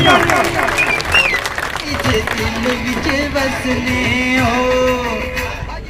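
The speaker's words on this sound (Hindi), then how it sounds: "उनके लिए भरपूर तालियां" A crowd applauds at a political rally for an independent candidate in Islamgarh, dense clapping that starts loud and stays sustained for several seconds, with voices and cheering mixed in.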